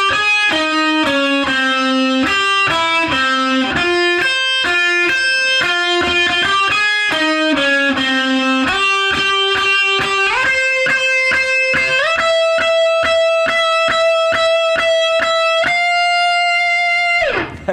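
Electric guitar solo for a song, played as a continuous run of sustained, overdriven notes that climb in pitch and end on a long held tone before cutting off, loud and alone with no talking.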